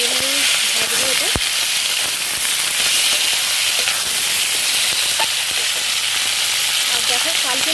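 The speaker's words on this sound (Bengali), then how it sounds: "এটা আমি পেঁয়াজে দেবো না, এইভাবেই ভাজবো এটা।" Food frying in a pan without onion, a loud steady sizzle and crackle filling the whole stretch, with faint voices at the start.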